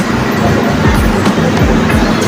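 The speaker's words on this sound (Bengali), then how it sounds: "একটা ট্রেন আসছে" A train rolls into a station with loud low rumbling and rhythmic clacking wheels over rail joints, close by, with a faint voice in the background.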